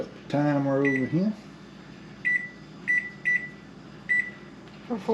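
A microwave oven timer is being set for a peach cobbler in a home kitchen, giving several short, clear keypad beeps at an irregular pace, with a burst of speech at the start.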